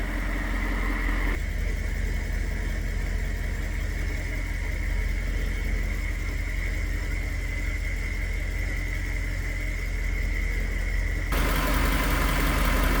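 A Toyota 1UZ-FE V8 idles with a faulty two-wire idle speed control, giving a steady, close engine drone with a persistent tonal whine that shifts briefly near the start and again near the end.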